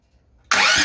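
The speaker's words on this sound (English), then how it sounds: "we should, with no choke, be able to get it to turn over and idle." A Duromax 440cc engine with upgraded jets and pilot, run without choke, fires abruptly after a quiet moment and roars loudly and steadily at close range.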